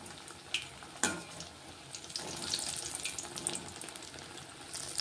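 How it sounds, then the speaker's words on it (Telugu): Aloo bajji (potato fritters) frying in hot oil, a soft continuous sizzle with a sharp clack near the start and scattered light kitchen clinks over the bubbling. "చూడండి, ఇవి కూడా ఫ్రై అయిపోతున్నాయి"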